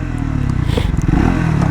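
A 2026 Triumph Scrambler 400X motorcycle engine starting, a close, loud, throbbing single-cylinder idle that settles into a steady rhythmic pulse with some mechanical clatter.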